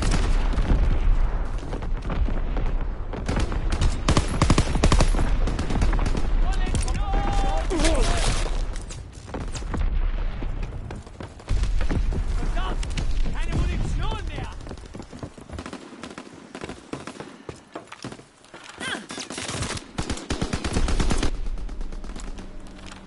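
Rapid, heavy gunfire and booming artillery blasts from a video game battle, loud and dense for most of the stretch with a brief lull midway, while a radio-style voice calls out orders over the barrage.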